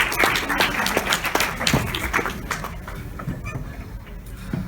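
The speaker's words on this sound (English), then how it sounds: "let's give a big round of applause" An audience at a hypnotist stage show claps loudly at first, individual sharp claps audible up close, then the applause thins and fades toward the end.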